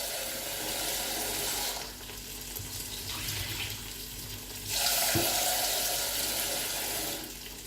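Rice being rinsed under a running kitchen tap, a continuous close rush of water splashing into a sink, shifting in tone as the flow hits the grains, with no talking.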